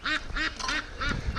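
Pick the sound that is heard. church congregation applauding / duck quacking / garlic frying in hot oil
duck quacking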